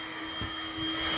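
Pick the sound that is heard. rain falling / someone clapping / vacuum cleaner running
vacuum cleaner running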